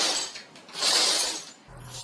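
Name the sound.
broken glass being cleaned up in apartment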